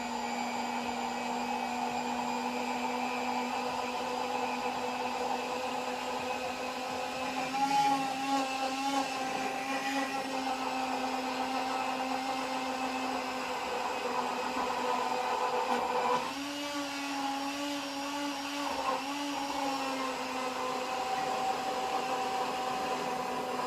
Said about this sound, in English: I'm going to probably raise the immersion blender up and down in the cup to help incorporate some air